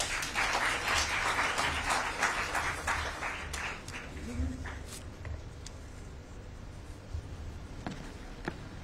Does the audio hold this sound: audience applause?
yes